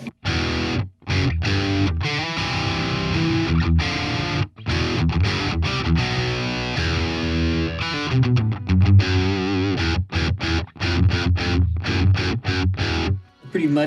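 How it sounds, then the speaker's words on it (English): Electric guitar through a BOSS Katana MK2 amp on the Power Drive setting, gain at 30 and bass EQ raised, plays chugging, muddy palm-muted riffs with short choked stops and silences, close and loud. "Here's the raw tone with nothing added, just the Power Drive amp with the bass EQ I got up there."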